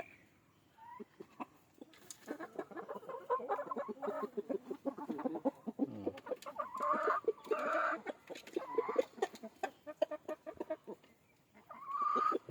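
Chickens on a farm in Agno, Pangasinan cluck and squawk in bursts, several birds close by calling over one another with short gaps, a low rustle underneath.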